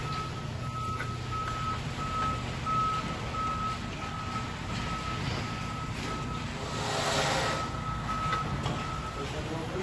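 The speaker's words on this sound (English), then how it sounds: "We're gonna pull that truck out of the way, bring the next one in." A truck backs up at a pole barn floor concrete pour, its reversing alarm beeping in a steady evenly spaced series over a constant diesel rumble, with outdoor noise swelling briefly.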